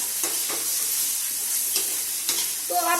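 Samosa potato filling with green chillies fries in a pan, a steady broadband sizzle with a few soft stirring scrapes and clinks, close and fairly loud throughout.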